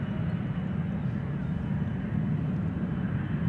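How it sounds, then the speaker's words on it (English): An Eastern Airways Embraer 170 airliner flying for KLM at Schiphol airport, a low, steady engine rumble that holds at moderate distance throughout. "Eastern Airways, the Britty Hopper Embraer 170 flying for KLM."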